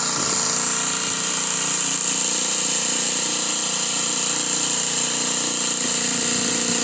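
A counter-wound split-coil generator spun at 1800 rpm runs as a constant loud whirring drone with a steady high whine, unchanging for the whole stretch, close and without speech.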